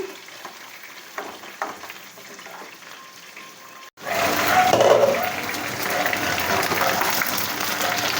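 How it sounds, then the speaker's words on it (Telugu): Eggplants dropping into hot oil with cumin seeds for a masala stuffed brinjal curry, with quiet kitchen noises giving way abruptly to a loud, steady, close sizzle that carries on to the end. "ఆయిల్లో జీలకర్రతోటి వంకాయలు కూడా వేసుకోవాలి"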